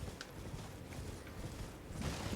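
Horse hooves gallop steadily in the video game Elden Ring, a soft continuous patter of quick beats under a broad wash of background ambience.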